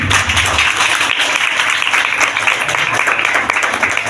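Steady applause from an audience at a church Christmas program, with dense continuous clapping filling the hall, loud and close, holding evenly for about four seconds without talk over it.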